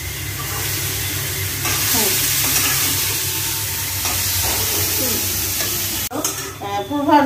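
Potato bhaji frying in a pan, a dense sizzle with stirring scrapes throughout, and a voice talking over it near the end.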